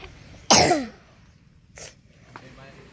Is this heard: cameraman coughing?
yes